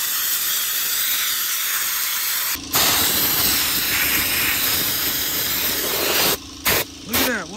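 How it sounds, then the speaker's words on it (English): Sandblaster blasting a rusty ignition coil from a 1978 Datsun 280Z, a loud continuous hiss of abrasive spray that stops briefly, resumes, then cuts off in a few short bursts. "We're just gonna sandblast it all, clean it up."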